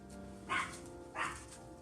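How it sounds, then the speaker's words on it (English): A dog gives two separate barks in the background, moderately distant, over a low steady backdrop. "Sorry for the dog barking in the background."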